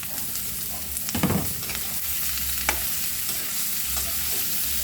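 Chicken feet hit a hot frying pan of sautéed aromatics for sweet and spicy adobo, a steady close sizzle with a few scraping stirs and clatters of the utensil.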